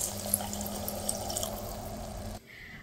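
Water being added to a pan of cooking vegetables, a quiet running and dripping pour that continues steadily and then stops abruptly near the end.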